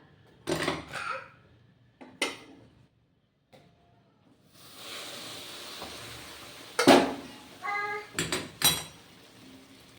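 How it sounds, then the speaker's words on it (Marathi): Sugar syrup poured into roasted sugdi in a pan gives a soft rushing hiss in the middle, framed by sharp clinks of utensils and pot knocks before and after. "आता याच्यामध्ये पाक टाकायचा"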